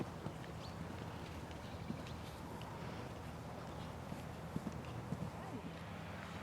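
Arab and Dutch draft-type warmblood cross mare, two and a half years old, walking with soft, irregular hoof clops over steady outdoor background noise.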